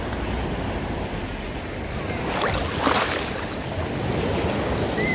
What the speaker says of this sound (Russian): Чуть волной нас окатило.